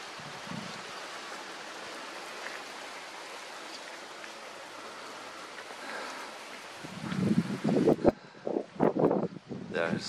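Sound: wind blowing through palm tree leaves in the Caatinga

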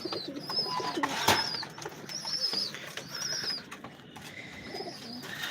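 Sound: Imamdin pigeons cooing in a loft

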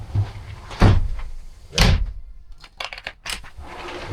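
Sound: boat cabin door opening and closing

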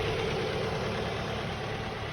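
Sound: Ford Focus 1.8 petrol 2007 engine idling

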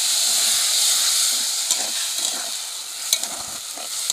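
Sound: milk being stirred into sizzling curry leaves in pan

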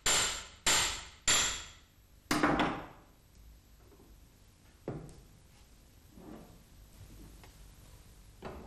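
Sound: light hammer blows removing needle bearing bush from yoke in vise

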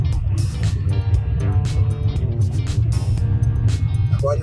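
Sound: truck passing on the road

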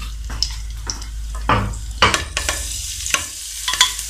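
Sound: garlic sautéing in oil for chicken Manchurian sauce

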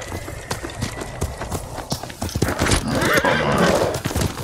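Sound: horse neighing and hooves in video game Ghost of Tsushima

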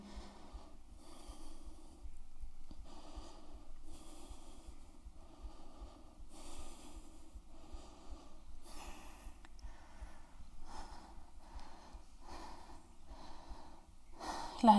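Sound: heavy breathing after workout

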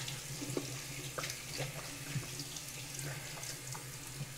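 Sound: tap water running at sink for face washing

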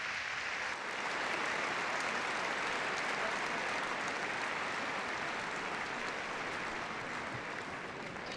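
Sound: crowd applauding at Crufts 2013 dog show

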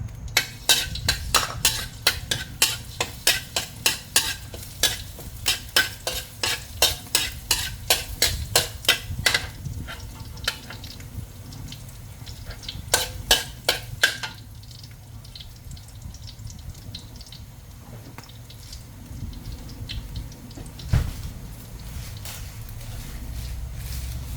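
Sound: chopped garlic frying in oil

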